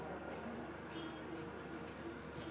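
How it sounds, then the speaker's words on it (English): A very old communist-era train arriving at a station bound for the Gobi Desert gives a steady low rumble and rolling drone, fairly distant and continuous. "When the train arrived, it was no surprise a very old communist train"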